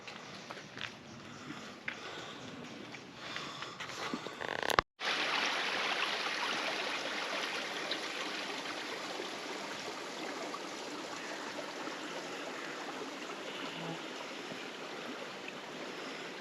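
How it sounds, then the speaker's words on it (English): Water rushes steadily down a fell stream from Napa Scar near Austwick, Yorkshire Dales, a continuous broadband wash heard close and fairly faint, with a brief break early on. "There's plenty of water flowing down from the scar up there"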